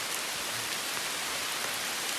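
Rain pours on a backpacking trail along the Northville-Lake Placid Trail, a steady, even hiss of falling water with no breaks and no voices, heard at a moderate level.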